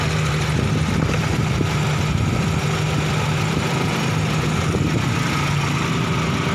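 A Toyota XE Big Body car engine idles with a steady, continuous low hum and rumble, close up and alone throughout.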